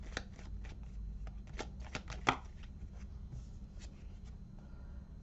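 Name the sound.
drawing a fortune cookie card from a deck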